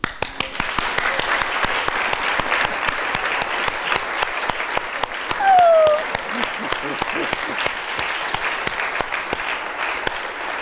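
Audience applause fills a silent-film festival hall for a Laurel & Hardy screening, a steady dense clapping that runs throughout with a brief swell midway and a faint whistle-like tone.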